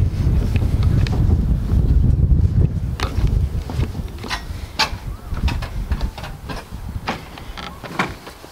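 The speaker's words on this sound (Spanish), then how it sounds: "Mucho viento." Strong wind roars across a microphone in the Llano Grande mountain valley of El Chico National Park, a loud, continuous low rumble with gusty swells and no speech.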